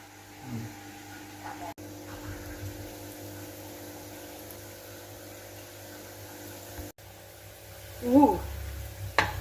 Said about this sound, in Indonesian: nih kita goreng 5 dulu ya teman-teman ya